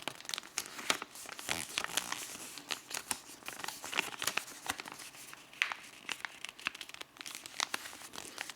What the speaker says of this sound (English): I will fold the opened edge to align with the center line.